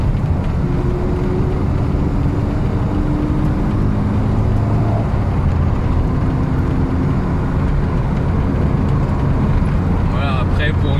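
A Volkswagen Golf 1 GTI engine rumbles steadily with a rough, raspy low-end tone throughout, while people talk over it.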